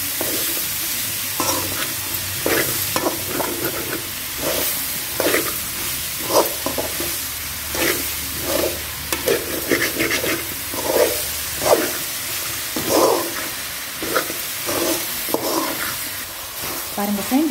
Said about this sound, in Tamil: காளானில் வந்து தண்ணி விடும், அதனால் நல்லா வதக்கி எடுக்கலாம்